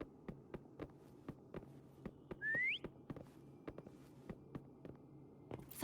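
A single short rising whistle calls Foam in the video game Wuthering Waves, heard once in the middle over a steady, rhythmic low thumping like slow footsteps or a heartbeat.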